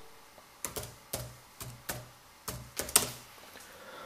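Keys on a computer keyboard are tapped in a rhythmic run of about a dozen crisp, close strokes as an IP address is entered, with no voices.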